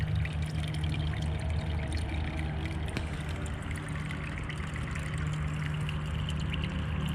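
Water from a natural pond test fill streams steadily through a yard, a continuous close trickling and pouring wash with a low rumble beneath, unbroken throughout and no voices.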